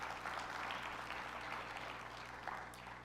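Applause from the audience at a community briefing on gun violence: a steady, fairly distant wash of many hands clapping together, with no voices over it.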